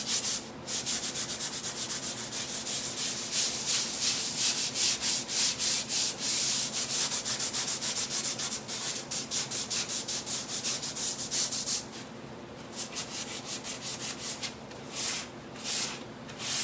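Rapid rhythmic sanding strokes rasp back and forth across a textured painted wood buffet surface, steady and close, then briefly lighten before resuming.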